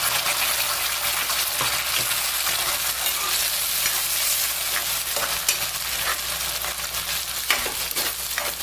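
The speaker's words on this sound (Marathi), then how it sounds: "ही सर्व आपण परतून घेणार आहोत" Onion and tomato masala paste for prawn masala sautéed in oil in a pan, a steady loud sizzle with a spatula scraping and stirring throughout, no talking.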